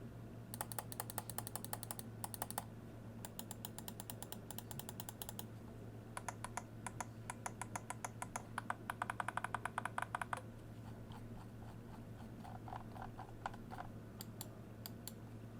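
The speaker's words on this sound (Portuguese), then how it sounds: "Se liga aqui no som dos botões." Fatench Helios UX3 V2 gaming mouse buttons clicked repeatedly in quick bursts, crisp close-up clicks with short pauses between runs and a steady low hum underneath.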